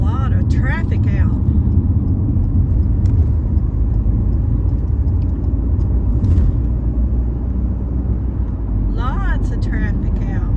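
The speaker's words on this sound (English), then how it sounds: "Now there is a lot of traffic out." Heavy road traffic, with a steady loud rumble of cars and other vehicles passing close by throughout, and brief chirping sounds rising above it now and then.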